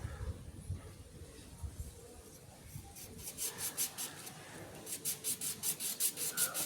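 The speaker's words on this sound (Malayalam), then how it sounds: "ആദ്യം നമുക്ക് ഈ ഫാഷൻ ഫ്രൂട്ട് കട്ട് ചെയ്യാം" A knife saws through a passion fruit with soft scraping at first, then a run of quick, rhythmic crisp cuts through the rind, close up and fairly quiet, with no talking.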